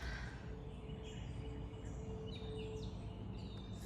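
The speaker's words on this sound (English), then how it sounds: "Good morning, birds." Birds chirp at a distance on a chilly, windy morning outdoors after a night of camping, a few scattered short calls over steady low ambient noise.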